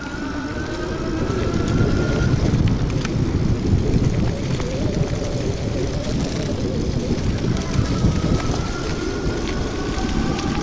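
Riding an electric bicycle at speed along a forest route produces constant loud wind rush and rumbling tyre noise, with a faint rising motor whine now and then and no talking.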